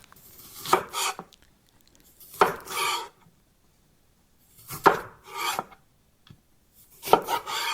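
Vegetables or other food are chopped with a knife on a board in sharp, close bursts of several quick strokes, separated by short pauses, in a quiet ASMR setting.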